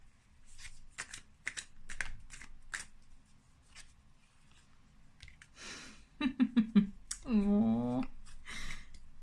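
Tarot cards are shuffled and pulled, crisp riffling snaps coming in quick clusters with soft pauses between, close and fairly quiet, before a voice speaks near the end.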